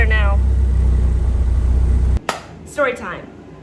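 A station wagon engine idles after a new distributor is fitted, a loud low steady rumble close by that cuts off abruptly, followed by brief voices talking.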